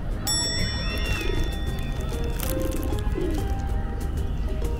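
Pigeons coo close by in a city park, soft repeated throaty calls over steady outdoor background noise, with a few brighter chirps from other birds.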